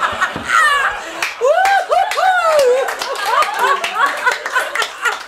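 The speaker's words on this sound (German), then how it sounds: "Sie kriegt Applaus für" A live stand-up comedy audience bursts into laughter mixed with scattered claps, close and lively, with loud voiced laughs rising and falling over sharp hand claps for several seconds.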